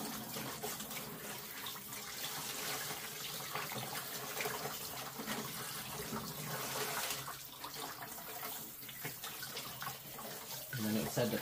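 Tap water runs steadily over a brined turkey being rinsed in a kitchen sink, a constant broadband splashing rush that holds for the whole stretch, with faint handling noises mixed in.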